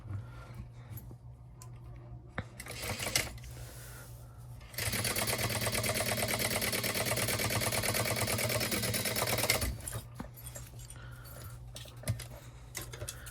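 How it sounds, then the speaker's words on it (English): Sewing machine top-stitching a folded-down lining on a fabric pouch, a steady close mechanical whir running for about five seconds in the middle with quieter handling noises before and after. "we're going to have our lining folded down, and we're going to top stitch this"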